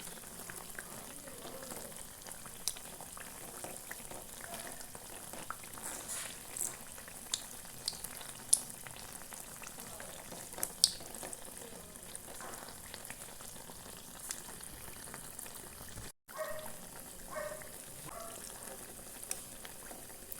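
A teatime snack frying in hot oil after being flipped to the other side, giving a steady, soft crackling sizzle with scattered small pops throughout.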